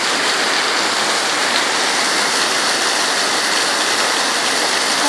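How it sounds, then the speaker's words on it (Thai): Heavy rain pours steadily onto a flooded garden, a dense, even hiss of water rushing and splashing without pause, close and loud, with no voices. "อันนี้เป็นฝนตก"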